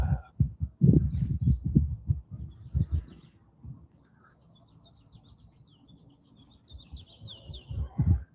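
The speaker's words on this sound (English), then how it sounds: "Guys hear the birds?" Small birds chirp and sing outdoors, high thin calls repeating through the middle of the stretch, while low thumping handling noises and a voice sit underneath at the start and end.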